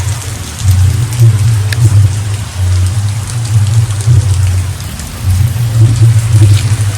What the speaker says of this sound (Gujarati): પાછો વરસાદ બહાર જોરદાર ચાલુ થઈ ગયો છે